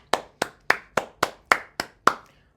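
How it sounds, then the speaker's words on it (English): Eight single hand claps in a slow, even rhythm, close and fairly quiet, with no crowd joining in. "Round of applause, please."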